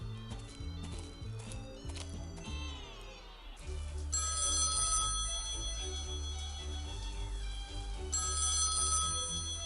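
A telephone rings repeatedly inside the SpongeBob SquarePants Movie PC game, its bright electronic trill sounding over game music and continuing steadily through the clip.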